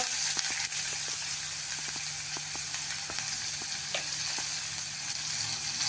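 Onion, tomato, capsicum and carrot with asafoetida and turmeric sautéing in a pan for a breakfast dish, a loud continuous sizzle dotted with light clicking taps from stirring.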